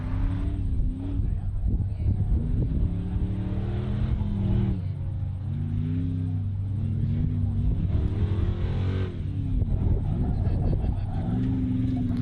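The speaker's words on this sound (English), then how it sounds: "Is that an LS powered Suzuki Sierra out there?" An LS V8-powered Suzuki Sierra desert car drives nearby, giving a loud, continuous engine drone whose revs rise and fall in waves throughout.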